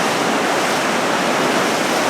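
Steady loud rush of the Cascade River in the Canadian Rockies near a bridge, a constant broadband roar with no breaks and no voices.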